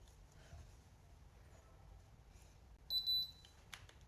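An automatic hair curler iron gives a short, high electronic beep in a quiet room, followed by a faint click.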